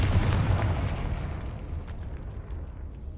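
Confringo spell explosion in the video game Hogwarts Legacy, a single deep rumbling blast that starts loud and slowly fades out over a few seconds.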